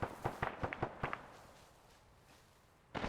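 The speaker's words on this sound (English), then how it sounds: "I think they got hit by those mortars." Mortar rounds exploding in the video game Arma 3, a rapid series of sharp distant-sounding blasts followed by a quiet stretch and one more burst at the end.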